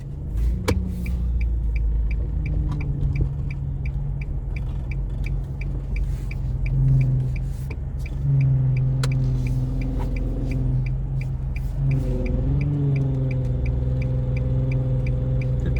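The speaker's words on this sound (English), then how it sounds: "it's a pretty steady flow of traffic" Steady traffic rolls past on Ditmas Avenue, heard from inside a waiting car: a continuous loud engine rumble with a soft rhythmic ticking and passing vehicles swelling and fading, with no talking.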